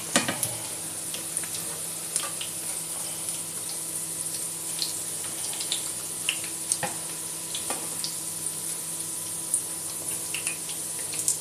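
Meatballs frying in a pan, giving a soft, steady sizzle broken by faint clicks and scrapes as they are stirred and lifted out, fairly quiet and close with no talking.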